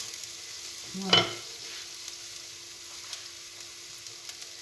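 A salmon burger patty fries in a pan over high heat, giving a soft, steady sizzle with one brief louder clatter early on, while a voice speaks a single short word.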